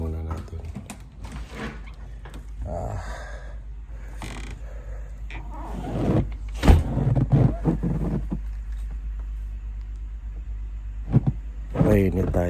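A car idles in extreme cold of about minus 30, its engine a steady low rumble beneath creaks, clicks and rustling, while a person talks over it.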